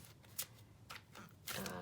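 Tarot card deck being shuffled, a few soft, quiet riffling bursts with short pauses between them, close by in a quiet room.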